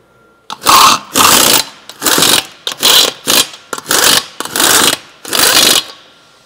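Lug nuts on car wheels driven tight with an impact wrench during a vehicle health check at a Chevrolet dealer, eight loud close bursts of rattling buzz separated by short pauses.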